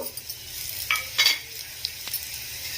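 Coriander seeds with chana and urad dal dropped into hot oil give a light sizzle with a few stirring scrapes, fairly quiet and close, no talking.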